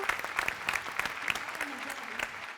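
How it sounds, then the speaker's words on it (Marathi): An audience at a Marathi comedy stage show applauds a music-heavy performance, with close, crisp individual claps ringing out in a lively patter that thins slightly toward the end. "हडकर आणि कंपनीसाठी एकदा जोरदार टाळ्या झाल्याच पाहिजे"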